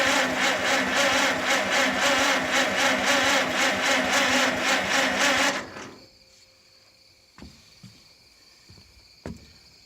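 An old engine cranks over on a replacement battery with a loud, steady, rapid rhythmic churning for several seconds, then stops abruptly, leaving near silence with a few faint knocks.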